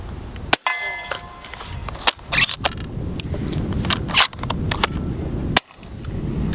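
A suppressed Exigent Defense Overwatch 7.62 rifle firing 220 grain subsonic rounds outdoors, several quiet sharp reports spaced a second or so apart with mechanical clicks between them, close to the microphone.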